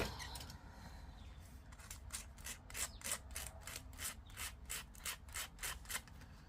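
A close, steady scrubbing sound as a sanding dobber is rubbed back and forth over washi tape in a regular rhythm, roughly two strokes per second, with no talking.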